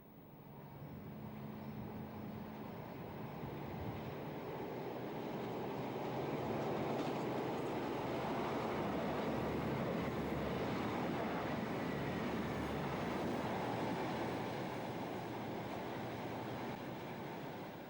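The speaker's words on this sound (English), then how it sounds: "A veteran pair of 37s head an engineer's train from Eastleigh, while a Class 159 heads an Exeter to Waterloo train." Two veteran Class 37 locomotives heading an engineer's train pass alongside a Class 159 on an Exeter to Waterloo service, on a quadruple-track main line; a steady, loud rumble with rail clatter swells to a peak and holds without speech.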